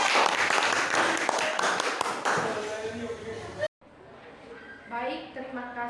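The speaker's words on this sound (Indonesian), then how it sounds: "tepuk tangan buat kelompok 2" A classroom applauds a student group, a burst of clapping that fades after a few seconds before voices begin speaking.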